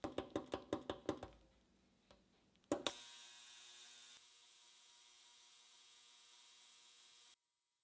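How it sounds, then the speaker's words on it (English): A Crewworks digital ultrasonic cleaner filled with Simple Green lemon solution starts after a series of sharp knocks and then hums steadily at a constant level for several seconds before cutting off abruptly. "The Crewworks Digital Ultrasonic Cleaner."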